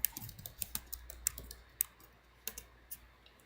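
Rapid typing on a computer keyboard, with crisp, close keystrokes in quick uneven bursts that thin out toward a few isolated clicks.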